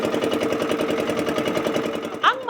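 A boat engine or air compressor runs at sea near the Gigantes Islands, Iloilo, a rapid steady mechanical chugging pulse heard up close and unbroken, with a brief sharp noise near the end.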